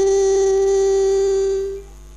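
A harmonica holds a three-hole blow note with the hands cupped airtight around it, a muffled, darker reedy tone sustained for under two seconds before fading.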